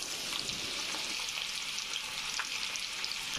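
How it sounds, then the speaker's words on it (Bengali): Chopped onions fry in a pan with cardamom, black cardamom and cinnamon for a chickpea pulao, giving a steady, close, continuous sizzle with faint stirring. "পেঁয়াজটাকে লাল করে ভেজে নেব।"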